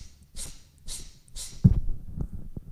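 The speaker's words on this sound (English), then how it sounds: "So forceful exhales through the nose for Kapalabhati." Forceful nasal exhales of Kapalabhati yoga breathing: three sharp, evenly spaced breathy puffs, followed by a louder burst of thumps and rustling with no talk.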